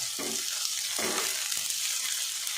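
Food fries in a pan until browned, a soft, steady sizzling hiss running throughout, with a couple of brief stirring or scraping touches.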